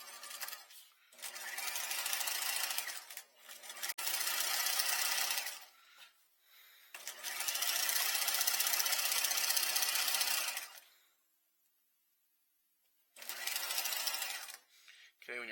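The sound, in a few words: sewing machine stitching an inseam pocket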